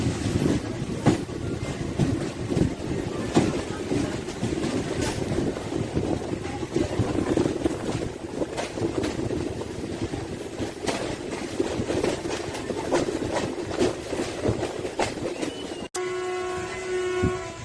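Secunderabad–Chittapur MEMU passenger train pulling into Lingampalli station, a steady loud rolling rumble of wheels and carriages close by, ending with a brief horn-like tonal sound.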